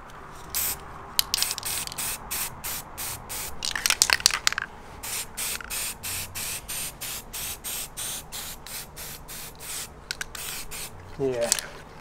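Aerosol spray paint applied to a car bumper grill in repeated short bursts, each a hissing spray of about half a second with brief gaps, close up, with some rustling and a faint voice near the end.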